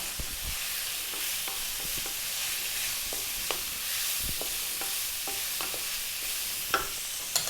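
Small-chopped onion frying for a Chinese pork and mushroom dish, a steady close sizzle broken by intermittent stirring clicks and scrapes of the utensil against the pan.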